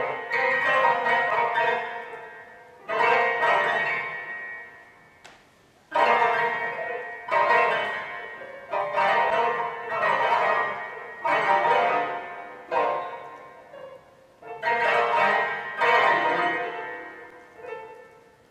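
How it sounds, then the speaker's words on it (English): A computer-controlled player piano in a Peter Ablinger installation strikes dense, resonant chord clusters in repeated bursts, each swelling then decaying, about eight separate attacks with gaps between, heard alone without voices. "the piano would come to life and you'd hear a sound like this"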